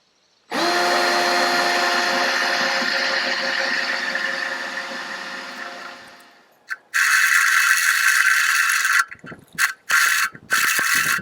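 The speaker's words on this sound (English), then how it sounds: "So let's start drilling." A power drill bores bolt holes while a tooth bar is being installed, running as a loud, steady whine for several seconds before winding down. Clanks and rattles of the work follow.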